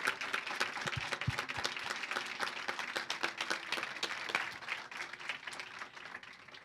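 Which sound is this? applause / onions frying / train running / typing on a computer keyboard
applause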